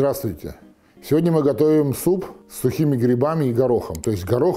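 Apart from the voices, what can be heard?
No distinct noise like a dog, phone or traffic.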